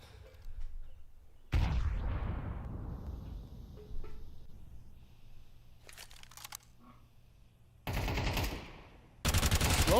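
Gunfire from a Counter-Strike match in which a FAMAS rifle is in use, heard as loud bursts of automatic fire broken by quieter stretches, with a sharp separate blast near the start and more rapid volleys near the end.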